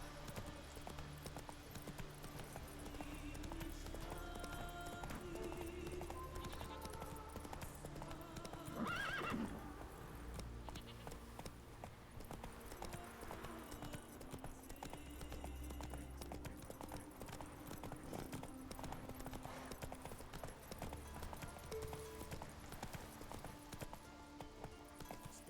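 Rhythmic clip-clop of horse hooves at a steady gallop through woods in the Witcher 3: Wild Hunt video game, continuous and close, with a brief whinny near the middle and game music underneath.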